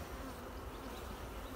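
Honey bees swarming around an open beehive, a dense continuous buzzing drone close by, steady and unbroken with no voices.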